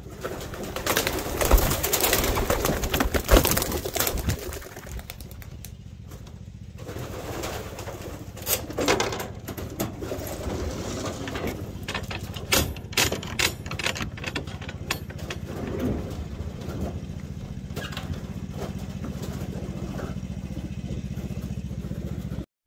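Pigeons in a loft taking off together, with a burst of wing clatter and flapping in the first few seconds, then scattered coos and rustling over a steady low rumble.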